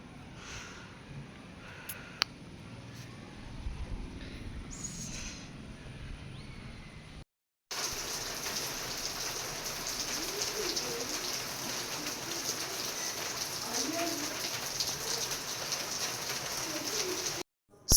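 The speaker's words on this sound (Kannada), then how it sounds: "ನೋಡಿದಳೆ ಹೆಂಗೆ ಚಿಟಪಟ ಅಂತ ಮಳೆ ಬರ್ತಾಯಿತ್ತು." Rain patters steadily on surfaces in a Malenadu setting, a dense continuous hiss that begins abruptly after a brief silence, with pigeons cooing faintly and a few bird calls in the background before the downpour.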